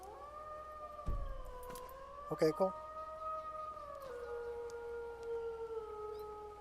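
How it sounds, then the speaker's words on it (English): A sustained, wavering wolf howl from a Skyrim sound mod rises and bends in pitch over several seconds, with a short spoken remark and brief clatter partway through. "It's the better wolf sounds."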